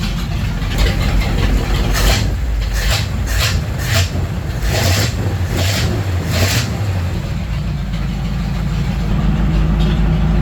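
A Ford F3 pickup truck idles after a very cold start following months of sitting, its engine loud and close with a steady rumble and a few uneven surges in the first half before settling.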